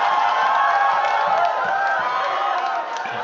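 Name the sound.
live crowd cheering at a rap battle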